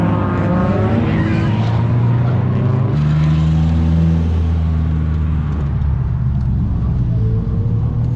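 A JZX100 Mark II drift car running at Nikko Circuit on a snowy day, its engine droning steadily with a shift in pitch partway through, heard from inside the car as continuous loud mechanical hum.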